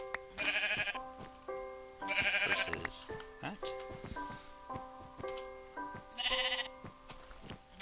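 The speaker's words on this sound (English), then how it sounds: "You're a sheep that has black fur?" Several bleats from a black-wooled sheep in the Minecraft video game, repeating in short bursts over cheerful background music, with a person talking between the calls.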